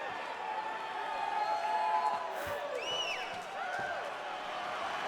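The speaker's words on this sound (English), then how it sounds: "I'm not sure I have ever heard a louder crowd in any arena in the world than this here Bell Center in Montreal, Quebec, Canada." A large arena crowd at the Bell Centre in Montreal roars and whoops in a UFC 5 video game bout, a steady dense din with scattered shouts over it.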